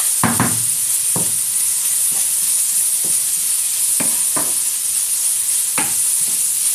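Blended celery, carrot and onion frying gently in a pan, a continuous loud sizzle with scattered spoon stirs and scrapes tapping through it, close up.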